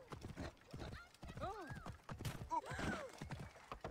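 Horse hooves clip-clopping and a horse neighing in Assassin's Creed Origins, two whinnies rising and falling over the hoofbeats, with someone talking throughout.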